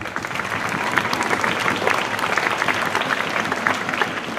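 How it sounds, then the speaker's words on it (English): An audience at a school spring concert gives a sustained round of applause for the school administration, a dense, even wash of many hands clapping throughout. "Let's give them a round of applause."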